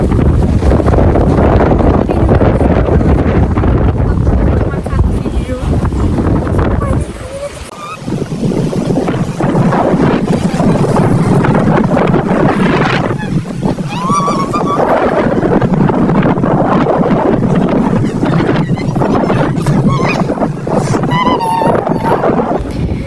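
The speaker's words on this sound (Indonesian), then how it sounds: "Kalian bisa dengar nggak itu kayak anginnya?" Strong, cold wind buffets the microphone in a loud, continuous roar with gusty swells outdoors near a tall church, while a person talks over it.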